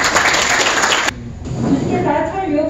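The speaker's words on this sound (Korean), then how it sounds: "박수 보내주시고요" Audience applause in a wedding convention hall at a fishing association's presidential inauguration ceremony, loud sustained clapping that drops off abruptly, followed by someone speaking over the room.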